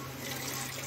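Water from boiled peas poured into a pan of cooking onion, tomato, ginger and garlic masala, a steady continuous pouring rush heard close and alone.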